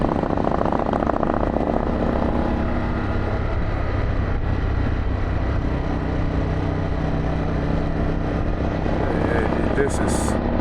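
Harley-Davidson adventure bike riding through the Shenandoah, its exhaust a continuous, steady engine drone mixed with wind rush that holds throughout, close and even, with a brief higher whine near the end.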